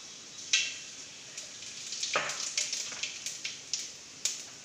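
Fenugreek and cumin seeds fry in hot oil, making a soft sizzle dotted with small crackles and pops, fairly close and with no voices.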